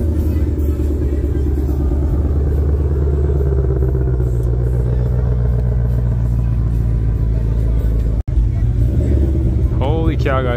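A car with a carbon fiber package leaves a Cars and Coffee show at Six Flags, its engine rumbling steadily nearby with a low throaty drone and some clatter as it pulls off; brief chatter near the end.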